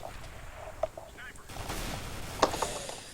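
A sharp gunshot in Counter-Strike: Global Offensive on a custom Minecraft-style map, a single crack over quiet game ambience with someone talking faintly.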